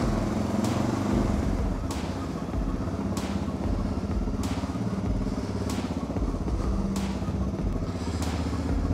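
A motorcycle out on a ride, its engine droning steadily and loud throughout, with periodic thumps or clatters from the road breaking through every second or so.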